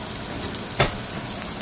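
Food sautés in a pan with a constant soft sizzle, broken midway by one short, louder hissing burst as something hits the hot surface.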